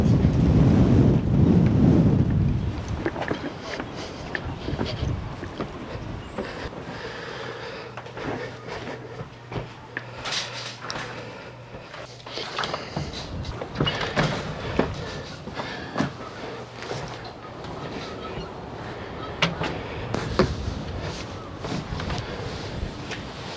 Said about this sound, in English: Oh my gosh, that wind is terrible.